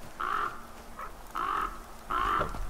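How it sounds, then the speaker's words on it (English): Crows caw three times in The Flame in the Flood, a survival game: harsh, nasal calls each lasting about a quarter second, spaced roughly a second apart, clear and fairly close over a quiet background. "I wonder what the purpose of the birds are."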